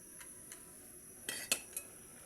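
A metal lid set onto a pot of talakitok fish soup, a few light clinks and one sharper clatter over a quiet kitchen background.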